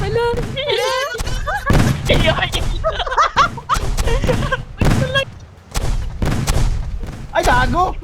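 Tiles exploding in the online party game Stumble Guys, with repeated booming bursts mixed into loud, excited talk from a player throughout.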